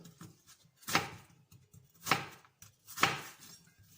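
A knife chops an onion into large pieces on a board, three distinct crisp cuts spaced about a second apart with soft handling sounds between them, close and clear.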